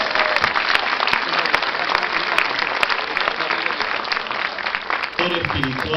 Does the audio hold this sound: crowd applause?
yes